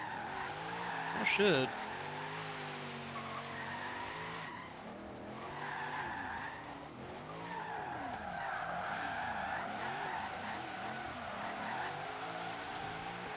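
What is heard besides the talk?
Camaro SS drifting, tires skidding in Forza Horizon 3 video game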